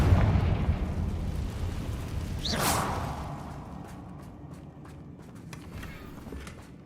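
A Confringo fire spell from Hogwarts Legacy goes off in a single whooshing burst, with a rushing swell and no voices. The low rumble fades out afterward.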